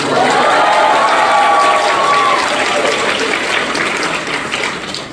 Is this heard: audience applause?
yes